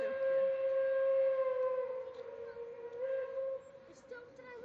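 Steam train whistle at a zoo railway, a loud sustained tonal blast that holds steady for several seconds before fading slightly, with faint voices in the background.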